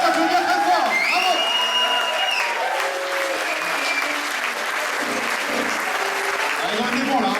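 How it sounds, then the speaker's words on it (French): Audience applause for improv performers at a cabaret d'impro evening, a steady, dense wash of clapping filling the whole stretch at even loudness, with a host's voice and scattered crowd sounds mixed in over it. "On va les applaudir très fort."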